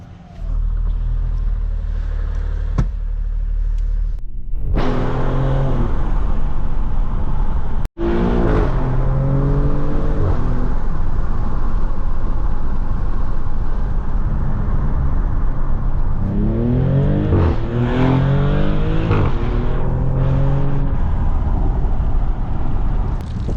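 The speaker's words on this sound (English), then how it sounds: "Got a ride on the new Maserati Granturismo, and the performance, it's a lot faster than my Granturismo" A 2024 Maserati GranTurismo heard from inside during a ride, its engine giving a loud, steady rumble that swells in rising revving sweeps as the car accelerates, with a sharp knock partway through.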